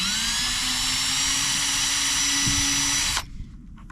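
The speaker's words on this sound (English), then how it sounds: "I'm only going to drill one before I put the screw in." A cordless power drill whines at high speed boring a hole into the plastic hull of an Ascend 12T fishing kayak, running steadily for about three seconds before stopping abruptly.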